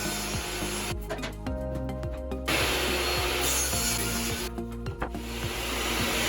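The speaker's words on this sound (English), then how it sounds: "Using the table saw, the shelf pieces are cut closer to final dimension, followed by putting a 45-degree bevel on the front and sides." A table saw running steadily while cutting a 45-degree bevel along wooden shelf pieces, a constant motor whine with the blade's pitch shifting as the wood feeds through, loud and close.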